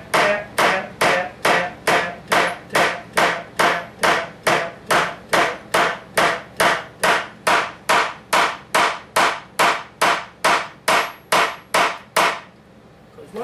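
Steady, evenly spaced taps of a hammer lightly driving a wooden dowel, about two per second, repeat for over twelve seconds before stopping.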